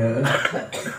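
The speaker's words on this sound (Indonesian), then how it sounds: "geuning batuk" A single close, harsh cough bursts out, followed by a shorter second burst, with no talk around it.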